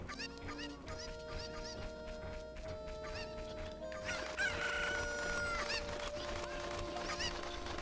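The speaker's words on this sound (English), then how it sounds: "So, gathering up these chickens." Cucco chickens in the video game Ocarina of Time crow repeatedly over steady game background music, with a louder burst of crowing and clucking in the second half.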